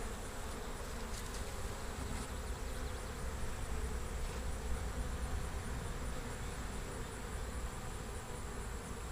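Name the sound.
honeybees buzzing at an open hive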